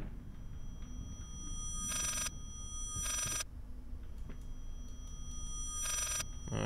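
A telephone rings in the horror video game Layers of Fear, three bright bursts of ringing spaced over several seconds above a low, murky ambient drone.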